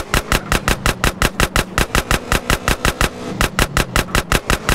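Rapid, evenly spaced gunshots in GTA San Andreas crack out in a steady burst of about twenty shots, loud and close, with a low engine hum running underneath.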